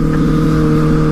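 A motorcycle engine revs steadily and loudly up close, a sustained droning hum with a brassy, trumpet-like tone and no talk.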